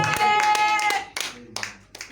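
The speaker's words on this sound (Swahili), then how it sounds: "Pigia makofi" Hands clap in a quick burst of sharp claps, several close together, with a voice speaking over and between them.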